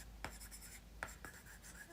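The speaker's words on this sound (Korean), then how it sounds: "아이패드에 종이질감 필름 붙여놓은 것 같은 소리다" A stylus scratching across an iPad fitted with a paper-texture screen film: a few short, dry strokes, close up and quiet, with faint room hiss between them.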